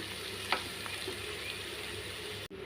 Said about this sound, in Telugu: వంకాయలు చక్కగా ఫ్రై అయిపోయినాయండి